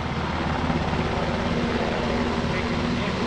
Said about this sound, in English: Control getting underneath the helicopter as the helicopter starts to climb